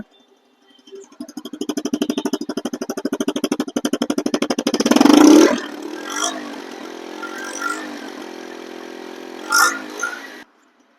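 A TVS Metro 100cc motorcycle engine idles with a rapid, even putter for several seconds, then revs sharply once before settling into a quieter, uneven running sound with a couple of brief bursts, heard close up.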